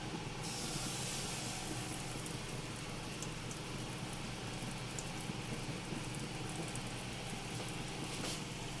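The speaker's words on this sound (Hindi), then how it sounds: "अब इस सब मिक्सचर को मैं इसमें डालूंगी।" Chocolate pancake batter poured into an oiled pan, giving a steady faint hiss of sizzling that runs evenly throughout with no talk over it.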